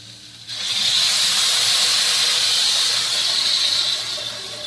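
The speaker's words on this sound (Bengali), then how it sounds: "ভালো করে কষানো হয়ে গেছে, এবার আমি জল দিয়ে দেব।" Water poured into a hot pan of cooked-down spices for a pangas fish curry, a sudden loud steamy hiss that bursts up and holds steady for several seconds before tapering slightly.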